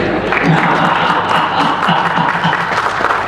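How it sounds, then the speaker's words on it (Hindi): A loud, sustained round of clapping rises from an audience at a Hindi kavi sammelan poetry gathering and continues evenly throughout, with scattered voices mixed in. "और तालियां इस बात पर बजाना"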